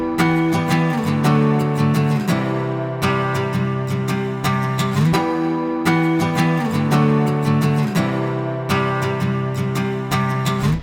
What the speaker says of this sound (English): I just doubled up those chords with a bell-like preset from Anna 2